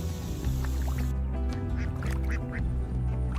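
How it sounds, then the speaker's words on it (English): A flock of ducks quacks loudly and continuously in a rice field, with many overlapping nasal calls close by and no speech. "Ducks take advantage of free food sources in the fields to gain weight naturally"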